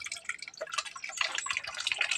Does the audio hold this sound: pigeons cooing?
no